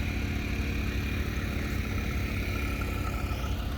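A 1966 Farmall 1206 diesel tractor idles at a farm tractor show, giving a steady low rumble with a faint knocking clatter, close by and constant for the whole stretch, with no talk over it.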